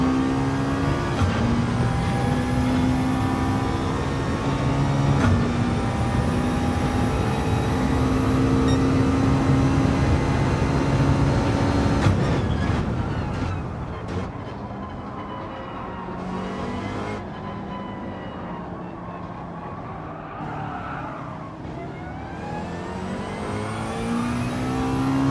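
Gran Turismo 7 race car engines wail in a loud, continuous rising and shifting drone, with revs climbing and gear changes, then easing off before building again.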